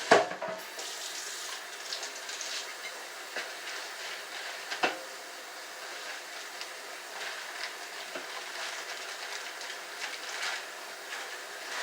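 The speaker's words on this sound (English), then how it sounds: "And rinse my meat off and wash my hands." Water runs from a kitchen faucet while meat is rinsed and hands are washed, a steady close hiss with a few louder splashes and clatters near the start.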